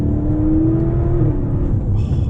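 A 1012 hp single-turbo Audi RS6 accelerates hard on the Autobahn, its engine a loud, steady roar with a rising drone heard from inside the car, continuous and without talk.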